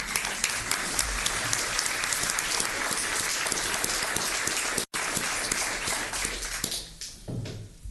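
Audience applause fills a commissioners court meeting honoring five-year county employees, a steady wash of clapping from a roomful of people that holds for several seconds before thinning out near the end.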